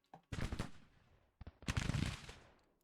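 Two volleys of massed musket fire from troops in a historical battle video game, loud sharp crackling bursts that ring and trail off, separated by a short pause.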